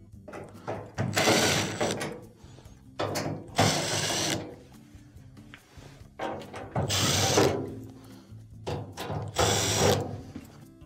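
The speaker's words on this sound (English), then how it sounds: "you'll have to remove these Phillips screws on the front." Phillips screws driven out of the front of a dryer with a power driver, four long ratcheting, whirring bursts with brief gaps and handling noise between them, close and loud, with no talking.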